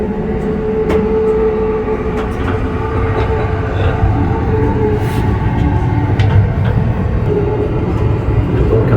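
Steady rumble and rattle inside a moving Amtrak passenger train, heard from its small onboard bathroom, with constant low-pitched running noise, faint clicks and a continuous hum throughout.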